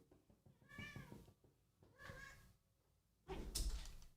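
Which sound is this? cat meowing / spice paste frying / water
cat meowing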